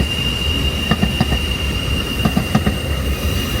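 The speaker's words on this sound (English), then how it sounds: "Here comes another D.A.R.T train, D.A.R.T train," A DART light rail train rolls past close by in Dallas, wheels clicking in a steady clickety-clack rhythm over rail joints beneath a constant high squeal and low rumble.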